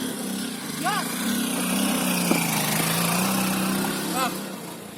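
A motorbike engine drones steadily under load while climbing a steep hill road in the Bandarban hills toward Keokradong, a loud continuous hum with a brief louder burst midway.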